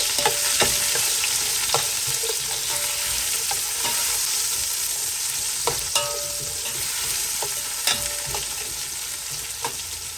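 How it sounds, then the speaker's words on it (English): Chopped onion frying in hot oil for a Fiji-style lamb shank palau, a continuous loud sizzle broken by several sharp scraping stirs of the pan, heard alone without any talking. "Now we'll add in the main thing, which is our onion. We'll give it a stir."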